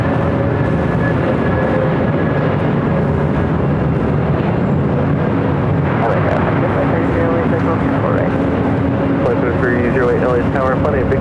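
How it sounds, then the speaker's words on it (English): Airbus A330neo taking off at LAX, a broad, steady jet engine roar filling the scene at close range with shifting tones, while a voice speaks over it throughout. "A330 at Neo, next takeoff"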